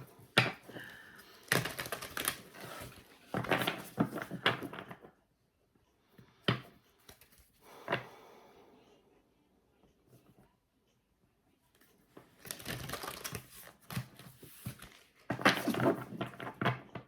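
Bursts of quick riffling and flapping as tarot cards are shuffled up close, separated by quiet pauses and a few isolated taps.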